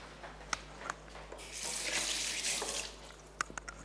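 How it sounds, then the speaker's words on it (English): Hands rinsed under a running kitchen tap while baking gingerbread cookies: a steady splashing gush of water in the middle, framed by scattered drips and light clinks, close by with no talking. "Let me just wash my hands."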